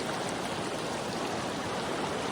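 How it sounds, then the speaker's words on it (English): Snowmelt-swollen river water rushing steadily past a sluice box set in the current, a loud, even, continuous wash of flowing water with no voices. "this river is pulsing from the snow melt up there"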